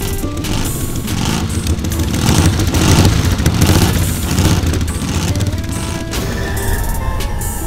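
Race cars roar and spin their wheels on beach sand, a loud, continuous engine din with gritty bursts and fluctuating revs throughout.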